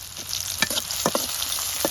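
Chopped onion and green chillies sizzle steadily in hot oil in a kadai, with a few sharp stirring clicks and pops, close and continuous.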